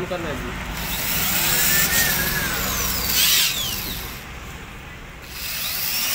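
A power drill whines steadily while drilling to seat a plate during chimney cutting, its pitch rising and falling as it bites in, with background noise and occasional voices.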